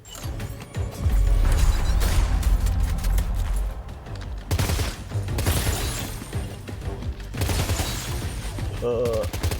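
Rifle shots crack in rapid volleys during a Death Stranding 2 firefight, loud and close, coming in several bursts with short gaps, while someone talks over the shooting.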